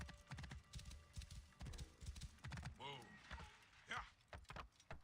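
Horse whinnying with a few hoof clops from a mount in the Assassin's Creed Origins video game near a giant pyramid, close and brief amid game sounds and someone talking.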